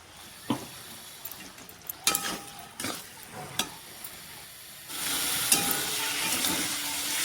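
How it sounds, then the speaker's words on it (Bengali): Ground spice paste frying in a pan for a fish curry, quiet sizzling broken by scattered clinks and scrapes of stirring, then a louder hissing surge near the end. "মশলাটা ভালো করে ভাজা ভাজা হয়ে গেছে"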